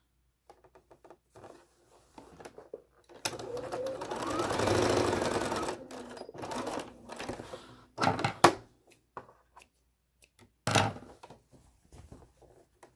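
Sewing machine stitching quilt pieces with diamonds and triangles on a center star, short bursts of whirring stitching broken by clicks and handling taps, close and fairly quiet.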